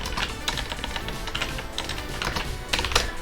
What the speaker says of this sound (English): My typing's rather poor.